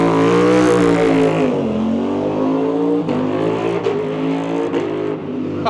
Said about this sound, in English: That is the race exhaust, which sounds pretty bloody good.